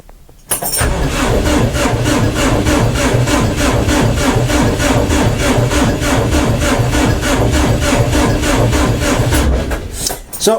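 A DF 704 Chinese tractor's engine cranks over in the cold, a steady rapid chugging of the starter turning the engine for about ten seconds, loud and close, ending without a clear catch.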